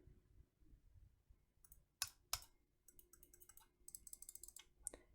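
Redragon Tiger 2 computer mouse giving a few crisp, close clicks, then a faster run of lighter clicks, heard alone in a quiet room.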